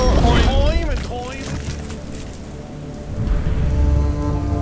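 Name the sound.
rain and thunderstorm sound effect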